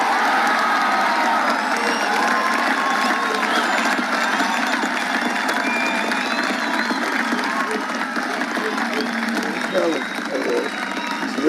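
A large crowd at a rally applauds and cheers, sustained dense clapping mixed with whoops and shouts that holds steady for over ten seconds, loud and close, with voices blending into the roar.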